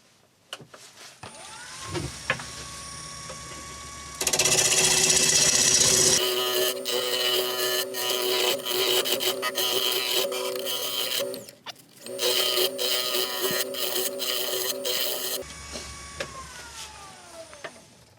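A yew wood carving mallet is turned on a wood lathe, giving a steady motor whine with loud, rough cutting bursts as the gouge bites into the spinning blank, easing off near the end.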